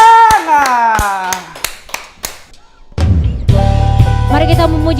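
Children at an Easter church service clap hands during a counting song game: sharp, separate claps spaced through singing voices, followed by louder group singing with music.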